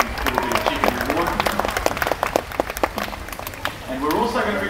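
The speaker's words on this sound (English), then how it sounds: "how about we give him a round of applause when he comes down" A crowd at a Dreamworld animal show claps in a moderate round of applause, individual hand claps audible, while a presenter's voice talks over it near the end.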